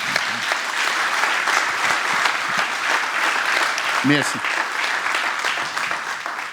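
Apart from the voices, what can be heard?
concert audience applause for parents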